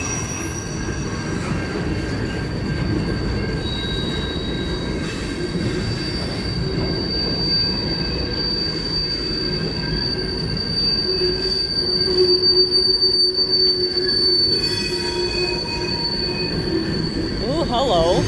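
A freight train of empty center beam cars rolls past at close range. Loud, sustained wheel squeal rings over a continuous heavy rumble, and brief faint voices come through now and then.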